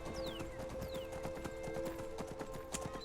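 Hooves clip-clop steadily as a horse is ridden in the Skyrim video game, a regular trotting rhythm at moderate level over a constant tonal game-music hum, with a faint whinny-like sweep in the background.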